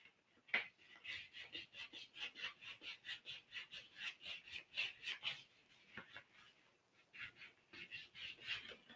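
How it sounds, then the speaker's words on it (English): A banjitar body being wet-sanded with 600 grit sandpaper gives rhythmic, close, soft rubbing strokes repeating steadily, with a brief pause midway and no talk. "looks like we're just about done with this 600 grit"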